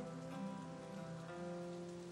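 Steady rain falling on surfaces during a night scene, a soft, continuous patter with no distinct drops standing out, faint and even throughout with no voices.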